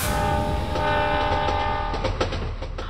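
A train rumbles close by as a sustained horn blares over the clatter of wheels on the rails.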